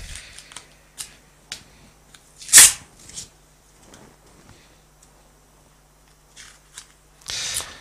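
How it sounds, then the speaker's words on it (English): Masking tape is pulled and pressed down on wood before acrylic painting, a few sharp close peeling rips and crinkles separated by quiet gaps, one louder tear in the middle and another toward the end. "I'll just put down one or two rows of masking tape there."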